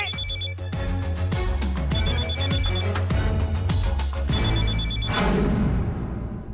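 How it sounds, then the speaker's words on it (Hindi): A telephone rings repeatedly in steady bursts, loud and close, with a ringtone melody over a rhythmic backing and no talking. "राजू फोन उठा"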